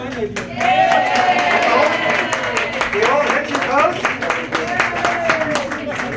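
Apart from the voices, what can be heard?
audience round of applause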